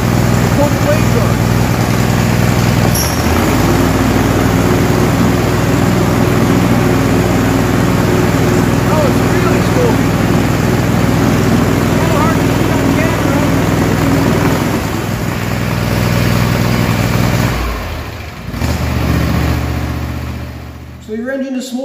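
A smoking boat engine runs continuously at a steady, throbbing idle, loud and close, with a brief dip in the sound near the end.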